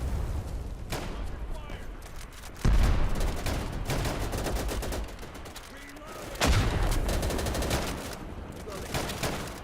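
Game battlefield in Easy Red 2: dense rifle and machine-gun fire crackles constantly while two heavy artillery blasts land, each a deep, loud boom that rolls out over several seconds amid the ongoing shooting.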